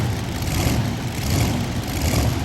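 Modified tractor pulling engines at a 1998 NFMS event in Louisville, Kentucky run steady and loud, a dense broadband roar with a rumbling low end that holds constant throughout, without speech.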